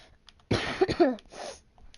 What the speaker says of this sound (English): Sorry if I have a little cough today.